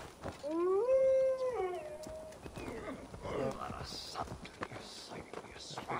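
A dog in the video game Assassin's Creed Valhalla gives a long, rising and falling howl, then lower whimpering noises, while someone talks over the scene.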